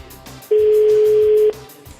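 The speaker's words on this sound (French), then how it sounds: "Ça sonne." A single steady ringback tone on a phone call, one even pitch held for about a second and then cut off, over quiet background noise.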